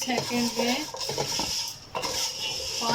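Green chillies and black pepper dry-roasting in a cooking pan, with scraping, stirring and metallic clinks from the pan and utensil, and a faint sizzle underneath, close up.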